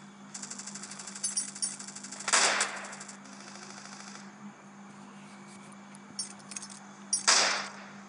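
Grenade blasts and bursts of gunfire in the video game Trigger Fist, with two loud broadband explosions standing out over a steady background hum and quieter intermittent clicks and shots.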